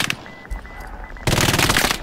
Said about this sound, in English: Just got annihilated by an MG.